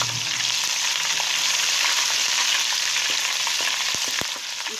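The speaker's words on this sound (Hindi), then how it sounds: "प्याज को हम हल्का सुनहरे होने तक फ्राई करेंगे।" Onions and ginger-garlic paste fry in hot oil in a pan while cooking pulao. A steady, close sizzle runs throughout, with a few light stirring clicks toward the end.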